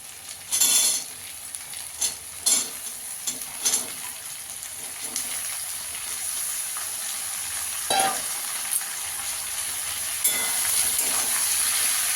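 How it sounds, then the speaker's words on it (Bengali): Onion stalks frying in a pan make a continuous sizzle, broken by several loud scraping stirs of a spatula against the pan and a clink or two, with no talking. "পেঁয়াজ কলিটা দিয়ে একটু ভেজে নেবো ভালো করে।"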